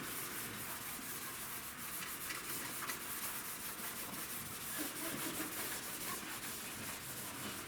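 Cloth rag with turpentine rubbed over the panel lines of a model jet during weathering, a steady, close, soft scrubbing hiss that carries on without a break.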